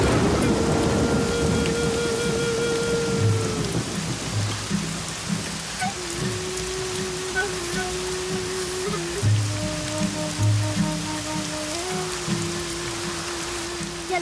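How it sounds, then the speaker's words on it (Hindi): Heavy rain falls in a steady wash with rumbles of thunder, while sustained musical tones play over the downpour the whole time. "बारिश रुकने वाली नहीं है बेटा"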